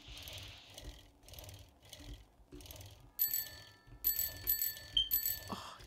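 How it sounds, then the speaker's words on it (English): Bell ringing in the survival game 7 Days to Die, several bright metallic dings in the second half after rhythmic mechanical clicking, moderately loud with no talk. "There's a bell."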